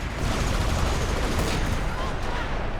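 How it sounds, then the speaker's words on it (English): Machine gun fire in the Company of Heroes game during an Operation Market Garden battle, dense and continuous rattling bursts blending with distant gunfire and explosions at steady loudness. "but the machine gun is firing, so he's not going to reveal himself yet"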